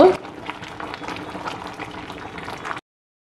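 Jaffna-style kulai soru, a mixed rice dish, bubbling in a pot as it boils, with a steady, close simmering and gurgling that ends abruptly.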